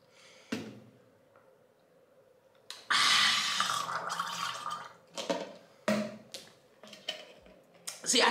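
Gulping and swallowing from a bottle, with a long stretch of steady sipping broken by several sharp gulps and breaths, close to the mic.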